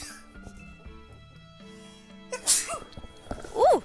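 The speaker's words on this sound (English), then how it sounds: "Felt that sneeze coming along." A person sneezes once, a sharp sudden burst near the microphone, followed by a short voiced exhale, heard over quiet background sound.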